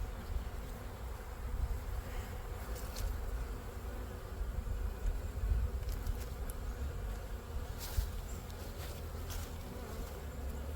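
Honey bees hum and buzz steadily around an open hive in an apiary, a dense close drone with individual bees passing nearby, with no talk.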